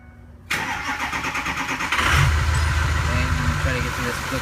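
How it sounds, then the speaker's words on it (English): A Ford 6.0 Powerstroke diesel engine cranks and fires up, then settles into a loud, steady idle with a rough, knocking rhythm, heard close with no talking. "I'm going to go ahead and turn the ignition switch on"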